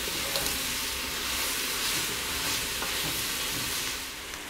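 Bacon and onions sizzle and fry in a Dutch oven after browned meat for a hunter's goulash, a steady, close crackling hiss with occasional stirring and no talk.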